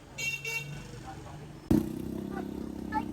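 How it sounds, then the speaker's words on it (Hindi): Busy traffic on a crowded narrow road in Guilin, China, with car and motorcycle engines and several short horn toots, one loud blast in the middle followed by sustained engine drone, while people talk nearby. "बहुत नैरो रोड है, तो इसलिए थोड़ा ट्रैफिक भी ज़्यादा हो रहा है"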